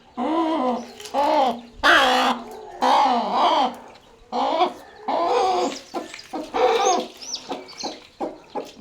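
A hen with chicks clucks and calls in a string of loud, close squawks with short pauses between them; no one speaks.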